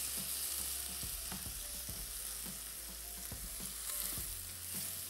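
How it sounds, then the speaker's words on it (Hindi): Chicken and onions frying in a pan as they are stirred: a constant quiet sizzle with regular scraping stirs at intervals, heard close and without speech. "थोड़ा चिकन को चला दें ताकि प्याज की मिठास और तुर्श जायका जो है वो चिकन के अंदर अच्छी तरीके से शामिल हो जाए।"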